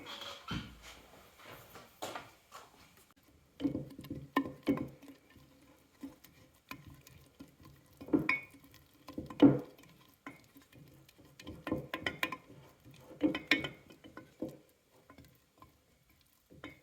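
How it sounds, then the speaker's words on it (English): Sourdough starter being stirred in a container, intermittent scraping and sticky slapping strokes in bursts with pauses between, close and moderately loud, no talking. "give it a stir"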